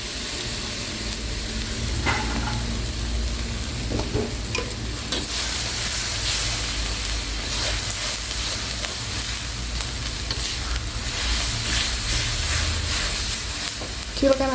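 Blended paste of shrimp shells and spices fries in a pan over medium heat, a loud continuous sizzle with scraping stirs and occasional spatters, no voices.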